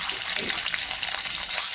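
Pomfret pieces fry in hot oil with black cumin seeds, producing a brief, continuous, crackling sizzle at close range, with no pause and no talking.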